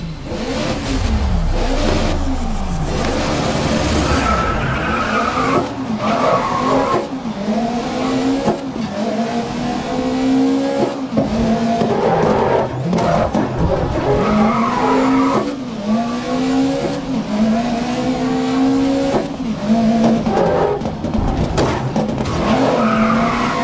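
Race cars in Grid 2019 rev hard and skid, engines climbing and dropping in repeated loud sweeps with tire squeal throughout a busy racing soundscape, no talk.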